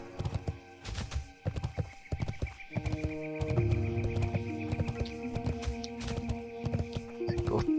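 Horse mount hooves clip-clopping in a steady rhythm in World of Warcraft: Wrath of the Lich King, with a whinny and game sounds layered over the steps.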